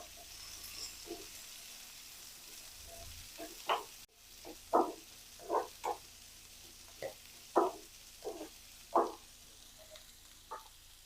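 Finely sliced large onions fry in a pan for chutney: a quiet sizzle broken by a series of soft, irregular scraping bursts as they are stirred.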